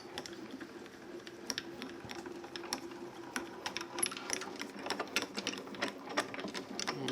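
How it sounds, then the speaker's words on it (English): A Grand Calibur die-cutting machine is cranked by hand with a base plate stack fed through, giving a steady run of sharp mechanical clicks and ratcheting ticks over a low whir, close and fairly quiet. "we're going to run it through our grand caliper"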